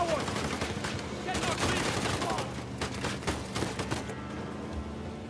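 Gunfire in the video game Uncharted The Lost Legacy, rapid bursts of shots cracking in clusters over continuous game background noise.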